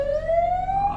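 A loud police car siren in a video game wails steadily and close, its tone rising slowly as it sounds on its own with no talk over it.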